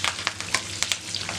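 Garlic cloves sizzle with curry leaves and ginger in hot ghee in a pan while a ghee chicken fry is prepared, a close, loud crackling hiss broken by quick stirring scrapes.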